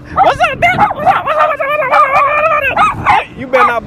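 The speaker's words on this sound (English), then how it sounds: "look at the dog" A dog on a camping trip whimpers and yips in high, wavering whines with a few short barks, loud and close, while people talk over it throughout.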